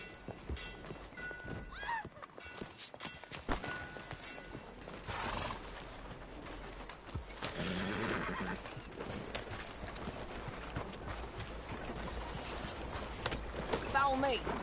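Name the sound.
horse hooves and neighing in a video game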